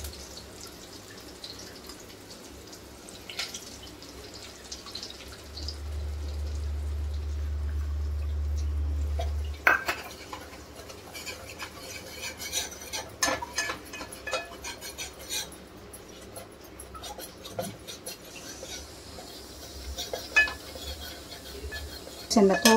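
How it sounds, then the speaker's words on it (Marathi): Gram flour roasting in a pan with bay leaf and curry leaves for Sindhi kadhi: soft, irregular scraping and clinking of a stirring utensil against the pan, close but fairly quiet, with a low hum partway through. "बेसनला थोडंसं भाजून घेऊया।"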